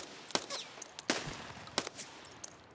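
AK rifle gunfire in the shooter game Escape from Tarkov: three separate loud, close shots or short bursts about three quarters of a second apart, each ringing out briefly, no talk.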